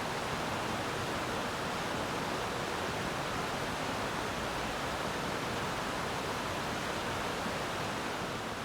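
A rushing, fresh stream beside a green, sloping asphalt campervan area at Sant'Agata Feltria gives off a steady, even broadband hiss of flowing water, constant throughout with no voices.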